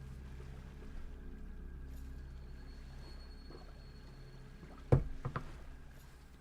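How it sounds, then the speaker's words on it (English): Waves wash against rock in the video game Salt and Sanctuary, a soft, distant watery wash under a low hum, broken by a few sharper splashing knocks near the end. "I awoke to the sounds of waves washing on rock"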